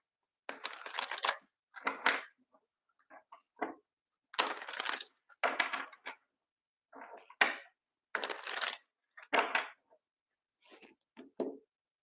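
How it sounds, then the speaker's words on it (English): Tarot cards being shuffled by hand, a series of crisp riffling bursts in irregular rhythm with short pauses between them, close and alone without talk. "Shuffle the cards up a little bit."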